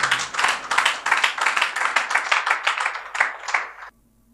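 An audience applauds a speaker in a room, a steady crowd clapping that carries for about four seconds and then stops abruptly.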